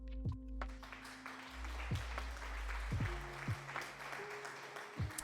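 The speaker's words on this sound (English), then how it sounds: "Thank you so much for the applause." Faint applause plays at a low level, a soft wash of clapping punctuated by sharper clicks, with steady tones running beneath it.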